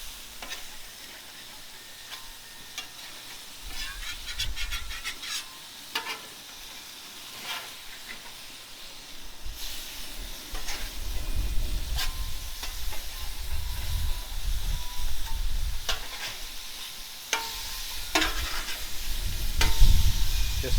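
Big Mac burger patties frying on a hot surface, a continuous crackling sizzle that grows louder and denser midway, with occasional sharp pops and spits, close and without talk.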